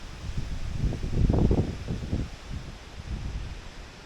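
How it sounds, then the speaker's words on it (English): Gusty, worsening wind buffets the microphone in low, rumbling surges in light misty rain outdoors, with a steady hiss of rustling in the background. "That wind is getting much worse."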